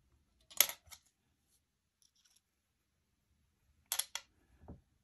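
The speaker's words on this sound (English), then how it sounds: "I'm going to pop the shock in." A 12th scale RC shock absorber popped into place, two short sharp plastic clicks and snaps a few seconds apart, close up with silence between them.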